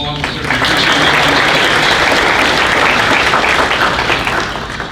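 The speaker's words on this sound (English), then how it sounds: "if you'd like to give them a round of applause" Loud, dense applause from the audience at a credit union annual meeting, sustained at full strength before tapering slightly at the end, with some talk mixed in.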